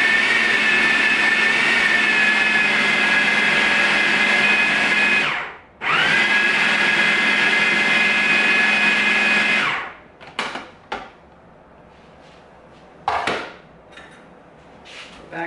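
Electric mixer beating cream puff dough after the last egg is added, a loud, steady high whir that cuts out briefly, restarts, then stops, followed by a few bowl clatters.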